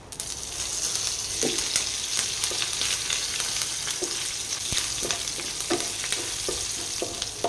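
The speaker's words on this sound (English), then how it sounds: "Let the curry leaves become fried." Curry leaves and red chilies fry in a hot pan, giving a steady, dense sizzle with quick crackles and pops scattered throughout, close and continuous, with no voices.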